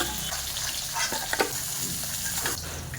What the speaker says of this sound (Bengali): বাকি মাছগুলো আমি এইরকম করে ভেজে নেব